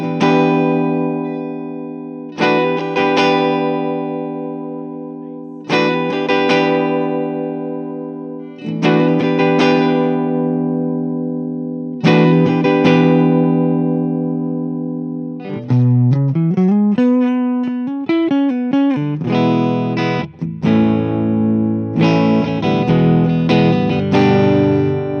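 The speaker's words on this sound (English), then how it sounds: "So now I'm just gonna use the neck pickup and kind of roll around with these knobs" A 1981 Gibson Sonex Artist electric guitar played through its neck pickup with the tone knobs being turned, giving a run of loud, sustained distorted chords with effects. Strums come in repeated bursts, then shift into quicker changing notes and bends, with no voice.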